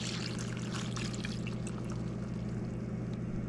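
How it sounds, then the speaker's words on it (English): Soy sauce, a full cup, pours steadily into a beef jerky marinade, giving a continuous, even liquid stream that runs without pause from start to finish. "Into the marinade goes 1 cup of soy sauce."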